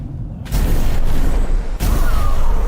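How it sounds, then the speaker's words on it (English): A shotgun blast in the fantasy action game Tainted Grail: Fall of Avalon, a sudden loud boom after a brief quiet, followed by sustained dense rumbling combat noise and a second sharp burst partway through. "Shotgun."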